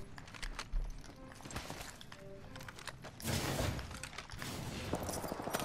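Enemy squads open fire in a battle-royale shooter game, a mid-distance fusillade of gunshots that swells from about three seconds and keeps rattling to the end amid footsteps and game noise.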